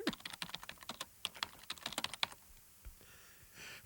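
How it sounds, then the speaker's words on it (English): Rapid typing on a computer keyboard, a dense run of close, crisp key clicks that stops after about two seconds, followed by a few quieter thumps and rustle. "Oh, then it was typing on a keyboard."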